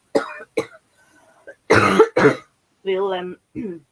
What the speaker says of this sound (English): I've got a horrible cough.